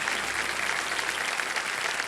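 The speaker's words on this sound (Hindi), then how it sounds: "ये जो उत्तर दिया है इसके लिए भी आपको ताली बजानी पड़ेगी।" A studio audience on a television quiz show claps steadily and evenly, a bright, continuous wash of many hands with no pauses for about two seconds.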